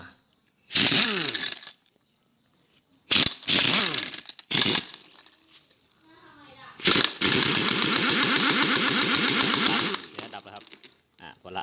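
A hand-cranked dynamo charger is spun up in bursts, giving a loud whirring, buzzing drone that rises with speed, with short bursts first and then a long sustained run, between pauses.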